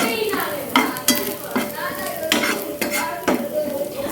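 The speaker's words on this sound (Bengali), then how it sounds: "আর একটু ভাজা হবে" Onions and a premixed spice paste fry in a pan with a steady sizzle, while a spoon stirs and scrapes through them in repeated strokes. Metal knocks against the pan now and then, close and fairly loud.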